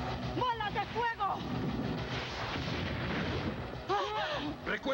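Fireball blasts in an animated Street Fighter series, a rapid run of booming bursts and crackling impacts over about five seconds, with shouting voices and effects mixed in.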